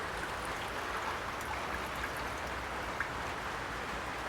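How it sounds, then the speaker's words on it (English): Water trickling down through the fuel line of a 2000 Suzuki Busa motorcycle, a faint, steady, hissing flow with no talk over it. "That's actually water falling down through the fuel line right now."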